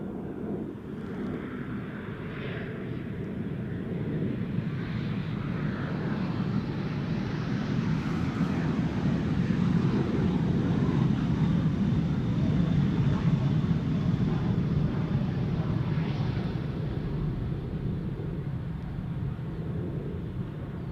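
A CRJ regional jet airliner at Schiphol Airport gives a steady, loud broadband roar that swells and holds for about twenty seconds, with wind buffeting the microphone and no talk.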